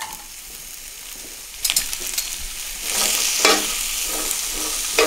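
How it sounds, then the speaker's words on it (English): Onions and chorizo hit a hot plate, starting with a quiet background sizzle that jumps into louder bursts of crackle and spatula scrapes, then settles into a steady, brighter frying hiss. "we can actually start with the onions, nice hot plate, and then add the chorizo's immediately with that"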